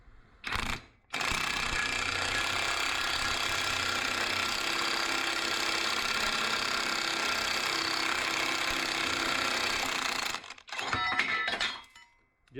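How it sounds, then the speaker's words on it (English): A Tiger Tool socket press fitted with a chrome socket forces a lug stud out of a wheel hub, giving a loud, steady mechanical roar for about nine seconds that ends in a few brief metallic clinks and knocks. No one speaks. "Press the wheel stud out with zero problems."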